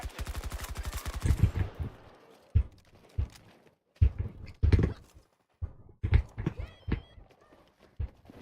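Battlefield combat gunfire, opening with a rapid machine-gun burst followed by scattered single shots and short volleys at irregular intervals, with brief quiet gaps between them.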